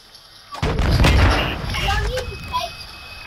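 Pistol gunfire in Call of Duty MWII erupts as a loud burst of close shots with booming tails, fading into a busy game-mix rumble and a few later pops.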